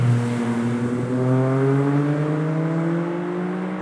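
Small car engine revving high while driving a winding mountain road; a loud, steady rising engine whine close by that climbs in pitch, then eases slightly toward a corner.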